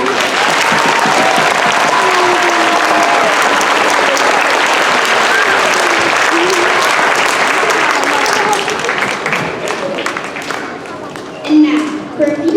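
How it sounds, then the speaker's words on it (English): Audience applause at a school Veterans Day celebration: a loud, dense burst of many hands clapping together that holds steady, then thins and tapers toward the end as a few claps and murmurs remain. "Let's give one more round of applause to Abel Barnes and Oliver."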